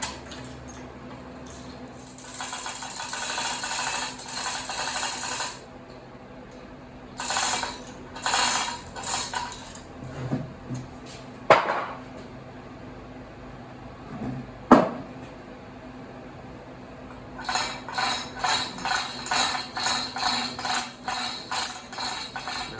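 Metal creaking, clanks and ratcheting as a crane presses a Twin Disc torque converter rotor out of its case on a Plymouth MDT 30 locomotive, with bursts of rapid clicking, two sharp knocks and steady mechanical noise.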